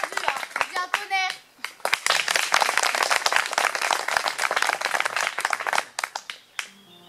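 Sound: audience applause

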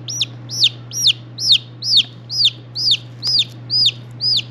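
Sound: chick chirping loudly while its curled toes are splinted

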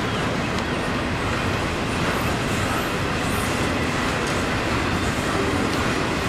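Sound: long freight train passing

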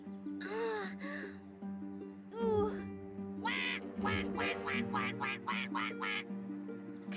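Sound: duck quacking

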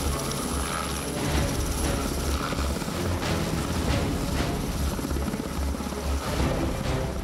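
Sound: army helicopter flying

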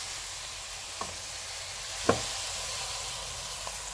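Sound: stirring sizzling creamy chicken pasta sauce with stock, garlic, butter

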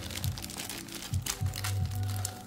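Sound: shuffling Pokémon booster packs

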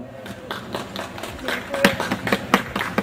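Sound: audience applause

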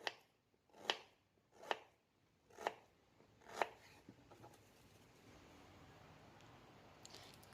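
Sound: knife cutting guava for dried snack

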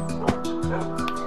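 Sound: dog barking in Minecraft video game

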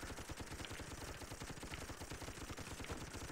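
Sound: gunfire from guns in the video game Toy Soldiers

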